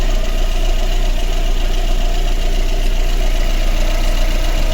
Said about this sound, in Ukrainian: чітко чуємо, що двигун наш троїть, дуже йому погано